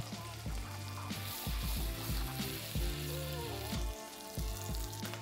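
Butter sizzles in a hot pan with a halved whole head of garlic and a halved lemon, a steady loud frying hiss broken by rhythmic scraping or stirring bursts.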